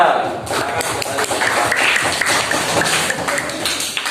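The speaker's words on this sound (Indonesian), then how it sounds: "Kita akan beri tepuk tangan untuk kelompok 2" A classroom group claps for group 2 at a teaching practice session, a burst of steady, dense claps heard close and fairly loud.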